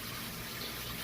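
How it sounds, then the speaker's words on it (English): Water gushes and splashes steadily into a tub being filled to hold rescued stingrays, a continuous, fairly soft rushing sound. "So now that the tub is filling, you can see we're getting some water in here"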